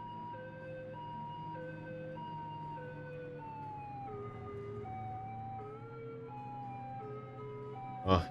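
A police car siren in the Minecraft video game wails steadily, its pitch rising and falling in a continuous looping pattern at moderate volume, ending with a brief sharp click.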